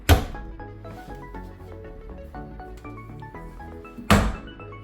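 An appliance door pushed closed in a guest suite kitchen gives a solid thunk at the start, then a second firm thunk about four seconds later, with faint background hum in between.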